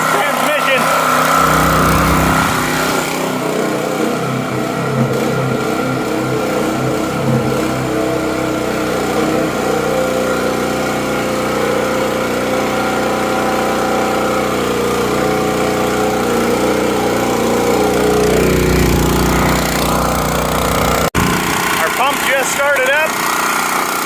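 Engine of an old water well pump running steadily, a loud continuous chugging drone like a small motor, holding throughout before tapering near the end.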